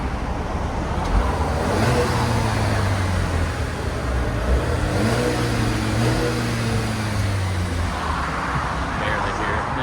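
A stock 2023 Dodge Hornet GT with its 2.0L turbo engine revs before a muffler delete, producing a subdued, muffled rise and fall in engine pitch mixed with road noise, steady and fairly quiet throughout.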